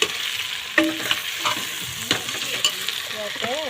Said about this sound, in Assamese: এইপিনে মাংসখিনি ভাজোঁ